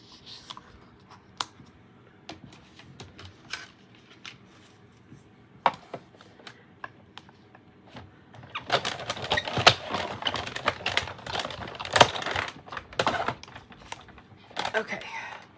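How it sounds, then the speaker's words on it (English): A die cutting machine feeds a piece of red paper through a die. Scattered light clicks give way halfway through to a dense run of rattling, ratcheting clicks, up close. "I'm going to take this extra piece of real red paper that we cut off and run it through with this die one more time"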